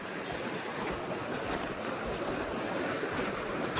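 River water flows steadily beside a riverbank, a broad continuous rushing wash with no breaks, close and moderately loud and heard alone with no talk.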